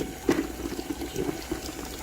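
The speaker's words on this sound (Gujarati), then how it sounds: "તને પાણી ભરી આલું" Water is poured and filled into a container for washing a car, giving a close, uneven gurgling and splashing rush with a few sharper splashes.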